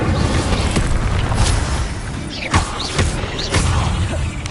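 The Incendio fire spell is cast in the Hogwarts Legacy video game, producing whooshing bursts and booming blasts over a continuous rumbling, magical din; there is no speech.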